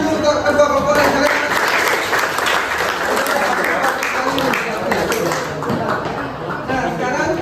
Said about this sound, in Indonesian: Tepuk tangan dulu untuk kedua kelompok yang kalian.